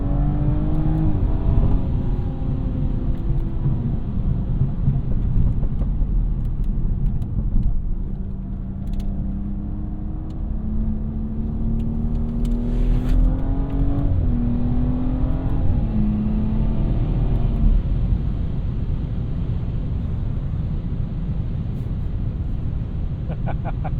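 A tuned BMW 340i xDrive with an MHD tune pulls hard at full throttle, its engine note climbing steadily through the gears in a loud, continuous rising drone heard from inside the cabin, with brief dips at each shift.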